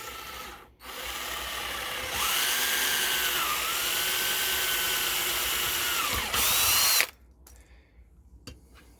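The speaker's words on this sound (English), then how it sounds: "I think I slipped with the drill" Cordless power drill boring into a surface while a 100-watt solar panel is being fitted, a loud steady whine with shifting pitch that runs for about five seconds, then cuts off abruptly into quiet room tone.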